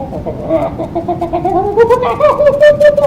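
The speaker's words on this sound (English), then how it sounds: "Here we can hear kookaburras laughing." Kookaburras laugh outdoors in a rising, cackling chorus of bird calls, moderately close and continuous throughout, with rapid rhythmic bursts building toward the end.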